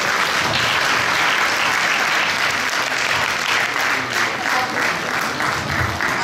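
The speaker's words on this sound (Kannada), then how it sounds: "ಒಂದು ಜೋರಾದ ಚಪ್ಪಾಳೆ ನಮ್ಮ ಎಲ್ಲ ಶಿಕ್ಷಕರು." Loud, sustained applause from a crowd honoring teachers at a Kaveri Deepawali 2025 celebration, dense steady clapping filling the whole stretch without pause.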